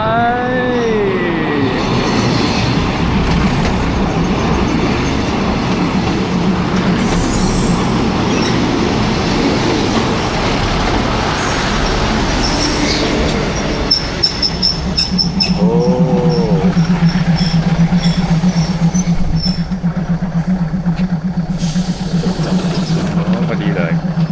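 A train rolls past close by at a stop in Chom Thong, Bangkok, loud rumbling wheels and squeals building and fading, while people talk and call out over it.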